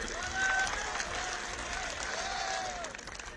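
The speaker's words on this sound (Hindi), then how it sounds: "अरे नौजवानों, तुम जाओ उत्ते ताली बजाओ," Distant, fairly faint applause from young people in the crowd at an election rally in Unchahar, Uttar Pradesh, a continuous hiss of clapping beneath someone speaking over a loudspeaker.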